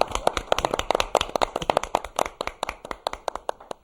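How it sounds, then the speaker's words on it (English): A small audience gives a round of applause at a speakers event, with distinct, rhythmic individual claps from a handful of people. The clapping is close and clear and thins out gradually toward the end. "Let's give him a round of applause."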